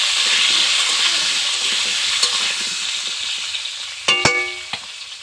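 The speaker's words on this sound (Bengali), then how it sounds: "আলুটা একটু ভাজা ভাজা হয়ে যাচ্ছে" Continuous sizzling of potatoes and a fish head frying in a pan, joined near the end by a couple of sharp metallic clinks from stirring.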